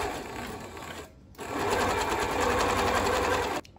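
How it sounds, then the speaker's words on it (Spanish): A sewing machine zigzag-stitches insertion lace onto a trouser leg, with a loud, rhythmic run, one short stop about a second in, then another steady burst that cuts off near the end. "Ahora coloco el entredós sobre la pierna del pantalón y voy a coser el entredós con zigzag."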